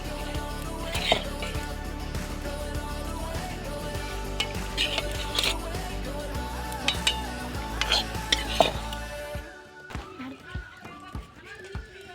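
Food is stirred in a pot at an outdoor picnic, with repeated scraping and clinking of utensil against metal, then sparser knocks toward the end.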